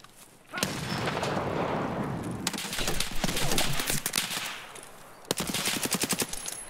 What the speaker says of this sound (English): Bro, I shot him, I shot him and hit him with a nade.